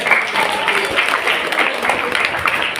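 Audience clapping for students at a school first-aid session: a brisk, continuous burst of many hands, fairly loud and close, with scattered voices mixed in.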